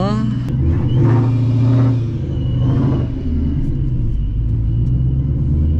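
A 700-horsepower Ford Mustang engine revs loud and close on a cold day, with a deep steady rumble that swells and eases over several seconds and carries no talk.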